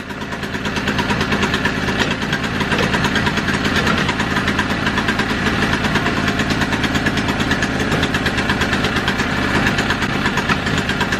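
Free used generator's small engine running steadily with a rough, rapid knocking chug, loud and close throughout, with no talking.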